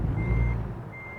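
A truck backing up in American Truck Simulator sounds a loud, steady reversing beep, one long tone early and another near the end, over a low engine rumble.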